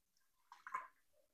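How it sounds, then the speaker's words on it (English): Water poured into an Instant Pot electric pressure cooker in a home kitchen, a short splashing pour of about a third of a second, moderately close and fairly quiet, with no talk over it. "Next, you want to put a cup of water in your Instant Pot."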